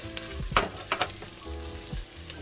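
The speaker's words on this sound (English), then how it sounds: "So now we're gonna start sauteing. Let's hope our oil is hot enough." Garlic, later joined by onions, sautéing in hot oil for a leek and potato soup, giving a steady close sizzle and fry with a few sharp crackles and the scrape of stirring.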